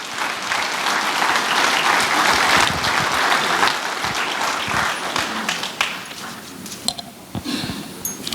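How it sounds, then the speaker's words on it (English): An audience at an employee and officer of the month breakfast gives loud, sustained applause for four honorees, the crowded clapping strong at first and then thinning out into scattered claps. "Give it up for these 4."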